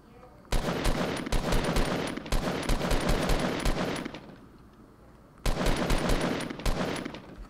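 Fortnite gunfire in rapid automatic bursts, loud and close, with two long strings of shots separated by a brief lull and then one more burst near the end.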